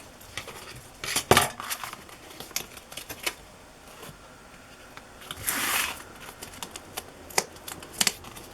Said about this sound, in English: Now I just have to peel the backing off.